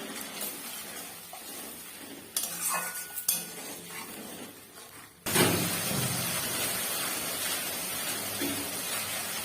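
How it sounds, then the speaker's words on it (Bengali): A turmeric masala spice paste is stirred and fried with a little water in a pan: clinks and scrapes of a utensil, then a sudden rise into a steady, loud sizzle that holds to the end. "এবার মশলাটাকে সুন্দর করে কষিয়ে নেবো।"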